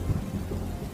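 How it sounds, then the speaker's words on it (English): Heavy documentary-style rain pours in a steady roar with deep rolling thunder underneath, as massive rains fall on a desert planet. "Massive rains pour onto the face of the desert planet."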